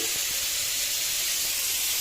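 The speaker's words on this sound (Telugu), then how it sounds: "టమోటాలు కూడా మగ్గుతున్నాయి బాగా" Tomatoes cooking down in a pan on a stove give a steady, close hiss of steam and soft sizzling that runs unbroken throughout, with no voices.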